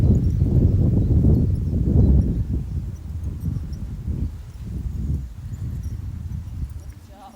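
A horse named Cash is ridden around an arena, its hooves clip-clopping in a steady rhythm close by while a person talks over it.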